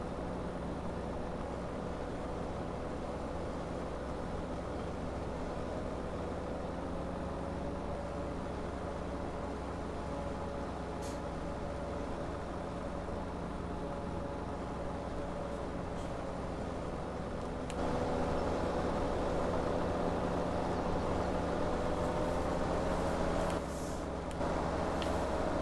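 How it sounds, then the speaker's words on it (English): A tractor engine in the video game Farming Simulator 17 drones steadily at low volume, a continuous mechanical hum with a faint tonal whine that rises slightly near the end. "I can turn the tractor up if you want."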